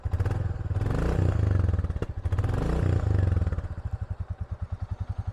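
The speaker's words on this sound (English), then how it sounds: "that classic thumper sound of the big single cylinder firing away" A Royal Enfield Bullet 350 single-cylinder engine runs with a loud, throaty thumping beat, swelling through a couple of revs before settling into a steady, evenly pulsed idle, close and alone.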